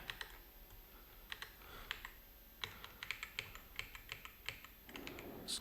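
Keys on a computer keyboard are tapped in short, scattered bursts while shortcuts are entered in Blender, light and close clicks with pauses between, no talking.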